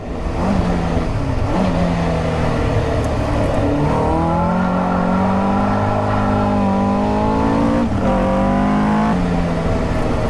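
A Caterham sports car engine on track at Anglesey drones loudly from inside the cockpit, rising in pitch as it climbs through the revs, briefly dipping at a gear change, then pulling high again.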